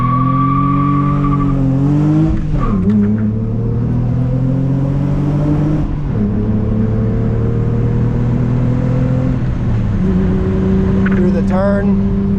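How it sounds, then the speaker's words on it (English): A Lexus IS300 accelerates hard from 0 to 60 on loose gravel, its engine note rising steadily and staying loud and close with gritty rumble and brief gear-change dips, and nobody speaking over it. "We'll do a little 0 to 60 through the rocks right here"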